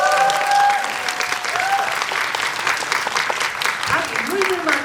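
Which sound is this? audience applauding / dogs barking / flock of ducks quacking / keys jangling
audience applauding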